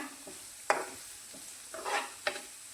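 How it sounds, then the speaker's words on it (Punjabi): Cumin, curry leaves and finely chopped garlic go into hot mustard oil, giving a few short bursts of sizzling and stirring against a quiet background. "ਤੇਲ ਗਰਮ ਹੋ ਗਿਆ ਉਹਦੇ ਵਿੱਚ ਜੀਰਾ ਪਾ ਦਿਓ ਕੜੀ ਪੱਤਾ ਪਾ ਦਿਓ ਤੇ ਬਰੀਕ ਕੱਟਿਆ ਹੋਇਆ ਲਸਣ ਪਾ ਦਿਓ"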